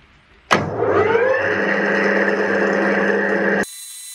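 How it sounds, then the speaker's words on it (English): A lathe or machining tool takes down a weld on a boat's rudder stock, with a sharp onset and then a loud, steady whine that holds for about three seconds before stopping abruptly. "now I'm going to take off that weld and then hopefully get that to fit inside that rudder stock"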